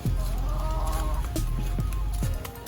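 Chickens cluck steadily nearby, a busy overlapping chorus of short clucks with a few louder squawks.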